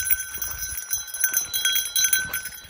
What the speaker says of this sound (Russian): У нас специальные колокольчики.